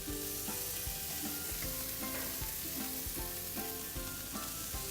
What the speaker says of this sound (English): You know how I love that sound. We all do, right? I'm gonna cook these sirloin steaks about 4 minutes per side.